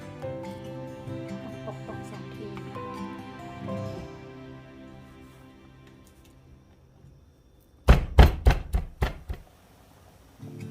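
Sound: pounding garlic, coriander root and chilies in a mortar

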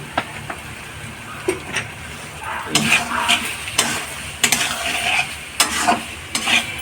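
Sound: dal simmering and bubbling in pot

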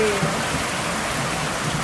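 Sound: heavy rain pouring outside

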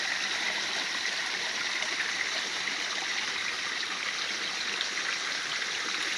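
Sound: water churned by spinning balls in a koi pond

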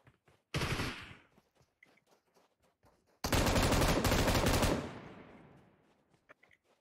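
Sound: gunfire in the video game PUBG Mobile

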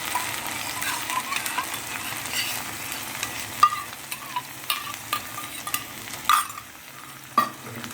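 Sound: spice paste being stir-fried in oil for cream paneer

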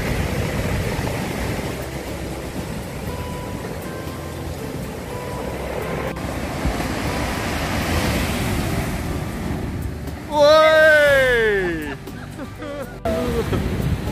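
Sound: sea waves on the beach at Cromer

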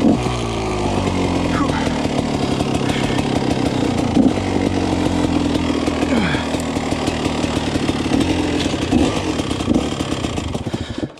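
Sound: starting an enduro motorcycle engine

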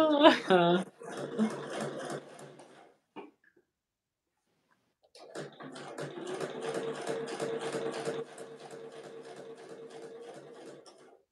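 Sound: domestic sewing machine stitching a boxy bag

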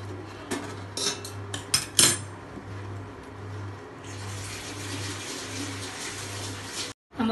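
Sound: stirring coconut rice payasam in a pot

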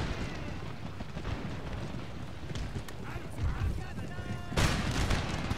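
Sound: troops firing guns in Empire Total War video game

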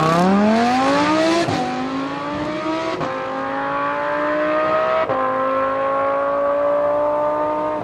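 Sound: Tesla electric car launching hard from standstill

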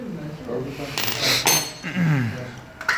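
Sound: motorcycle engine cover being lifted off

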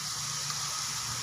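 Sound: water being poured into a cooking pot

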